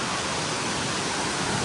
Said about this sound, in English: We got the big waterfall there.